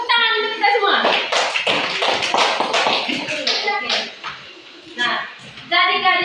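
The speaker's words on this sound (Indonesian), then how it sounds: "Tepuk tangan untuk kita semua." Classroom clapping, a burst of close, uneven hand claps and taps among children's voices, fading into talk before the voices return.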